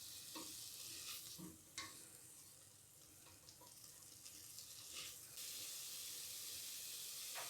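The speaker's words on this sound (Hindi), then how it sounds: "इसे भी 2 से 3 मिनट अच्छी तरह फ्राई करना है" Vegetables for chicken soup fry in a pan, a continuous soft sizzle with occasional stirring clinks and scrapes, close and fairly quiet throughout.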